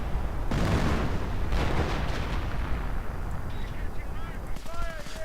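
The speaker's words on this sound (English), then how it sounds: "Artillery now being called in." Artillery barrage in a real-time strategy battle game: dense, continuous rumbling bursts of distant explosions and gunfire, heaviest at the start, with whistling tones and a voice talking over the din toward the end.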